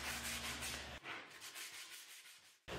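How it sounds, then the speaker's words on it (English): A wooden barrel top is hand sanded with sandpaper of several grits, a close rubbing scrape that runs briefly before easing into softer, uneven strokes and then resuming. "Then I hand sanded that with a few different grits to get rid of any sharp edges."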